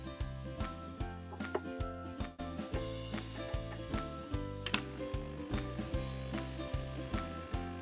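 A smartphone deoxidation machine set to 50 watts runs with a steady, pulsing mechanical whir, regular ticking beats and a tonal hum, close and continuous with no talking.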